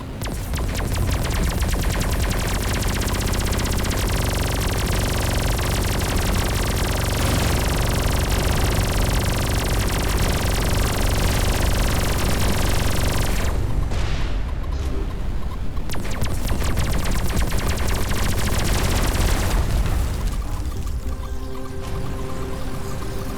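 Explosions and gunfire ring out in the space combat game Everspace 2, a dense, loud, continuous roar of blasts and booms with brief dips in the din, no voices heard.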